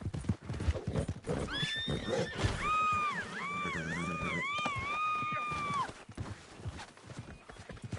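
A horse in the video game Red Dead Redemption 2 whinnies loudly with a wavering, rising and falling neigh over clopping hooves and background noise. The sound is close and prominent.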